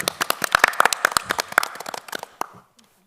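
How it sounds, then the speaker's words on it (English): An audience at a health convention gala breaks into a short burst of applause, claps crisp and close, thinning out and fading to quiet after about two and a half seconds. "all the round applause for you"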